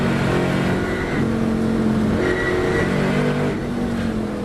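Classic race cars lapping Knockhill circuit at a Scottish Classic Sports and Saloons meeting, including a white Mark 1 Ford Escort, with engines droning and revving steadily in shifting pitches, loud and continuous throughout.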